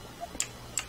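Planted bomb in Counter-Strike ticking: a few sharp, bright beeps spaced roughly evenly apart, the last one louder, over a faint low game hum.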